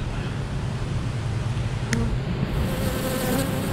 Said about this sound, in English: There's a lot of bees on that one.